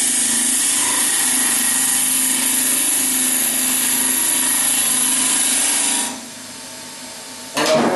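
Steady loud whirring and rough cutting of a wood lathe truing up a spinning wooden bowl blank, close and continuous, dropping away near the end before a brief burst of tool contact returns; no talking.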